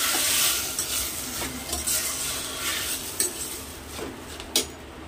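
Washed rice being stir-fried in hot oil for masala rice: a soft, hissing sizzle broken by occasional sharp clinks of a spoon against the pot, close and alone.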